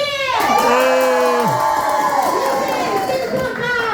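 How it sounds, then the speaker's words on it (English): A diner audience cheers and whoops loudly, with excited overlapping shouts and rising, swooping voices filling the room continuously. "Give us a cheer!"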